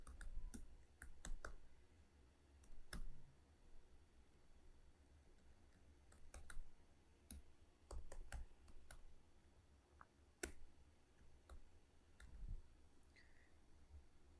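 Computer mouse clicks, sharp isolated taps scattered irregularly over a quiet room hum, close and fairly faint with some quick clusters of clicks.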